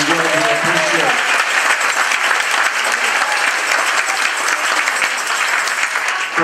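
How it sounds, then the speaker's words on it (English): A crowd at the Legal Aid Hearts for Justice 2018 gala gives a round of applause, loud and continuous clapping throughout, with a voice briefly audible at the start. "please give them all another great big round of applause if you would"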